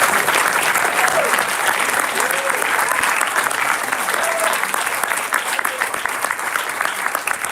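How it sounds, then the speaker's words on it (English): A graduation ceremony audience applauds the graduates with steady, sustained clapping that fills the hall for several seconds, dense and even throughout, with a few voices faintly mixed in. "Let's give them a round of applause."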